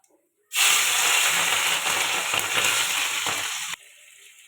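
Prawns dropped into hot oil with five-spice seeds in a pan, a sudden loud burst of frying that hisses and crackles steadily for about three seconds, then cuts out abruptly, close up with no voices.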